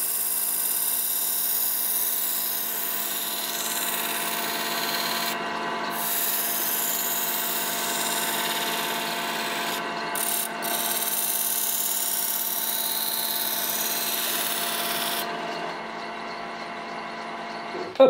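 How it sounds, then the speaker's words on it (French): Two knives are sharpened against a spinning felt wheel, giving a steady rubbing, whirring grind that runs continuously at close range, with two brief breaks and a lighter tail near the end. "Je vais affûter les deux couteaux."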